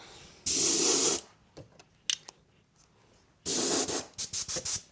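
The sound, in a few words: spray painting an RC car body black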